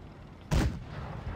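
A single tank cannon shot from World of Tanks Blitz, a sharp loud blast that decays quickly into a lingering low rumble, with no talk during the shot.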